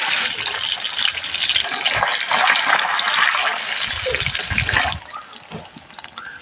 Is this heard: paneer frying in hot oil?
yes